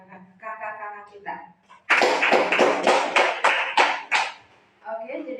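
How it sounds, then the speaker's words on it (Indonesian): A school audience breaks into applause after a nurse-education talk on the dangers of careless snacking, a dense burst of many clapping hands lasting a few seconds, with a voice speaking before it and again after it fades. "Mari kita berikan aplaus untuk kakak-kakak kita."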